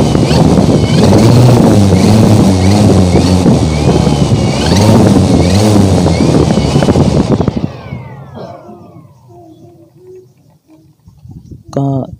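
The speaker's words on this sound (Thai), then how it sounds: "อันนี้ก็จะเป็นเสียงโดรนตอนที่ใส่ใบพัดนะครับ" A drone runs with its propellers fitted, giving a loud, steady buzzing whine outdoors in strong wind that holds for about eight seconds, then spins down and fades, with a short burst near the end.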